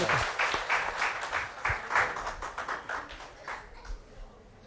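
A small audience at a Turkish product promotion claps to welcome a guest, uneven close-up hand claps that thin out and grow sparser toward the end.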